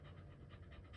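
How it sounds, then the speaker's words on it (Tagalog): A dog pants rapidly after playing, its quick rhythmic breaths close and steady throughout one short moment, with no talking. "Laro pa rin kahit hinihingal"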